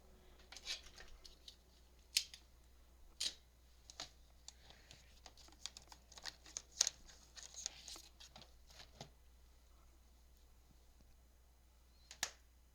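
Scissors snipping through a junk journal cover in faint, scattered close cuts with quiet pauses between them, over a low steady hum.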